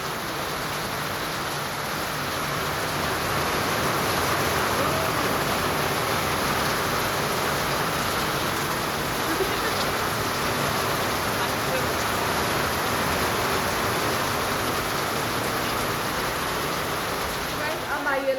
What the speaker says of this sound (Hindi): पहले 2-4 ओले आए।